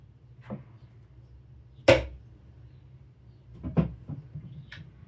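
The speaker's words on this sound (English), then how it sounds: "The sound of glasses." Broken glass pieces clink and tap sharply as they are sorted by hand, a few isolated bright clicks spaced apart over quiet background.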